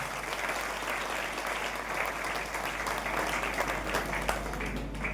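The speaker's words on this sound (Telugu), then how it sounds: "కనుక అందరం గట్టిగా చప్పట్లు కొడదాం." Steady, dense applause from a crowd at a church consecration ceremony, sustained and fairly loud throughout with no pauses.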